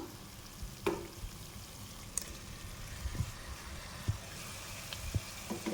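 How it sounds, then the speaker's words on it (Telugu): Gongura chicken fries in oil in a pan as tomato is added, with a steady close sizzle broken by a few soft knocks and stirring taps. "ఇప్పుడు మనం ఇందులో టమాటా వేసుకుందాము"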